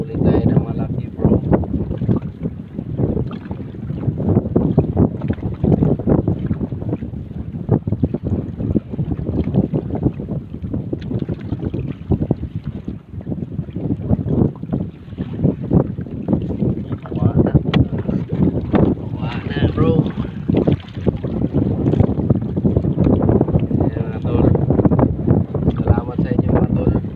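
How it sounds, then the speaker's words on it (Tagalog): Strong wind buffets the microphone in rough, continuous gusts over water and a boat during night fishing, with voices talking now and then. "Lumakas na yung hangin"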